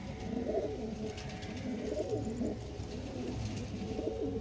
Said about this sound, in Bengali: পায়রা দেখুন শুধু